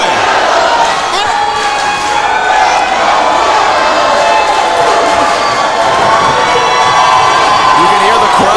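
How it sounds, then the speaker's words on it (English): A professional wrestling arena crowd roars and cheers during a SmackDown broadcast, a loud, sustained wall of shouting and whoops with a commentator's voice over it. "You can hear the crowd."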